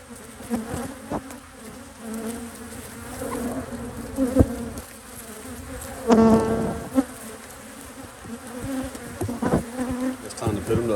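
Bees buzz densely around the hives of an apiary, a close, wavering hum with insects darting near and away, broken by handling knocks and rustles.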